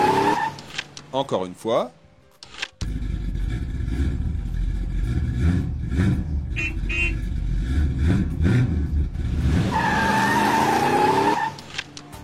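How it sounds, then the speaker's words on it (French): A car engine starts and revs in a loud, harsh roar with squealing, skidding tones. Short sound fragments and a voice come first, and cartoonish tones follow the engine noise. "c'est une voiture qui démarre"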